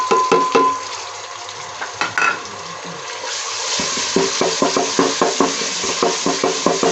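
Onion, ginger and garlic fry in a pan as chopped tomatoes go in: a steady close sizzle, then a run of quick scraping stirs with a spoon against the pot.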